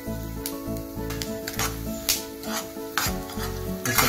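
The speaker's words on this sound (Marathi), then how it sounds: "हे सगळं व्यवस्थित परतून घ्यायचं" Ground turmeric, chilli, coriander and cumin powders sizzle in hot oil as a spoon stirs them around the pan with scraping strokes, close and steady, with no talking.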